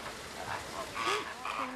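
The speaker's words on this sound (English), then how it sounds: "For now, though, the flamingos are on the move." Flamingos being moved from their enclosure give scattered nasal honks and short calls over a soft, quiet background, several brief cries overlapping near the end.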